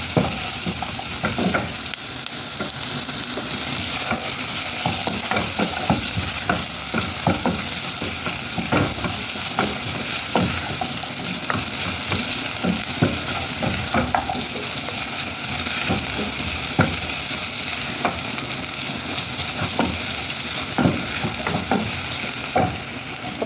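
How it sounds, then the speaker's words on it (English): Onions cooking for a wet-fry beef spaghetti sauce, sizzling and frying steadily in a pan while a utensil stirs them, producing dense continuous crackle with frequent scraping strokes, loud and close throughout with no talking. "Let's allow our onions to cook."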